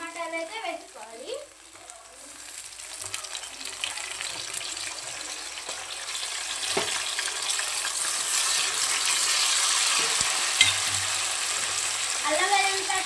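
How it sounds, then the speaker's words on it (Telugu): Onions and tomatoes sizzle in a pan of oil while cooking coconut rice. A steady frying hiss builds and grows louder over the stretch, with a brief voice near the start and occasional soft clinks. "వీటిని కొంచెం ఎర్రగా వేయించుకోవాలి. ఇలా ఫ్రై అయిన తర్వాత టమాటాలు అయితే వేసుకోవాలి."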